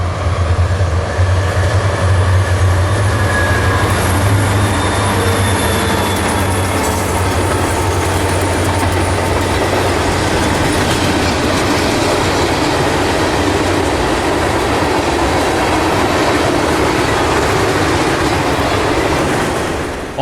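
A circus train rolls past on double track with a loud, continuous rumble and clatter of railcars, a low engine drone in the first half, and a sustained broad roar throughout.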